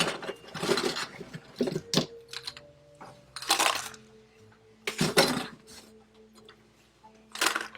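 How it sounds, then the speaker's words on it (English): A few ice cubes dropped into bamboo glassware while mixing a Zombie tiki drink, giving several crisp, separate clinks and clatters at close range with quiet gaps between them. "And we're gonna add some ice, a few ice cubes."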